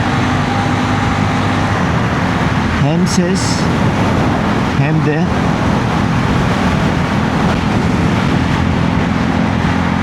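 A steady, droning car engine and exhaust rumble, picked up by a microphone under the seat, fills the cabin from start to finish, with a person speaking briefly over it.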